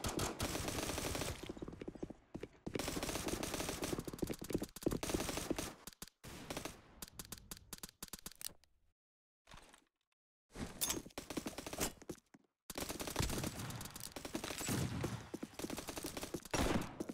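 Gunfire in Roblox comes in long, rapid automatic bursts with short pauses between them, heard at low volume.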